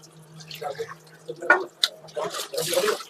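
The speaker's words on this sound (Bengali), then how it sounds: "মাছটা একবার ধুয়ে ভালো করে একটু জল দিয়ে" A piece of fish is rinsed with water in a home kitchen before cooking. Splashing and dripping come in short irregular bursts, ending in a fuller wash of running water.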